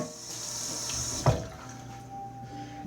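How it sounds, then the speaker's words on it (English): Water runs from a sink tap as a rag is rinsed under it, a soft continuous splash with a brief louder slosh partway through. "I'm going to rinse that out. I usually have a little soap on that rag."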